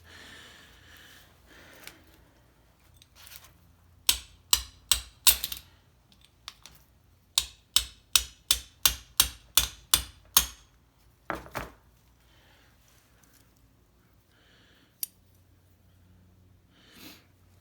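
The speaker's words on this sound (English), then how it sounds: "Just going to try to get the chisel in there a little bit further to separate that some more." Sharp hammer blows drive a chisel to split a new input shaft bearing from a VW Jetta 02J/02M gearbox, close and loud. They come in quick, evenly spaced bursts of several strikes, with a few scattered taps and quiet pauses between.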